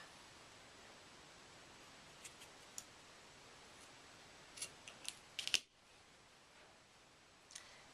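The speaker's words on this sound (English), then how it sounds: "then I'm going to cut off the excess tape" Scissors snip off excess double-sided tape while a dream catcher is being made, giving a few quiet clicks and then one sharper, louder cut near the end against a soft background hiss.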